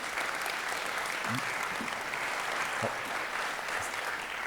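Steady applause from a conference audience at an energy transition event runs throughout, even and fairly loud, while someone speaks over the clapping.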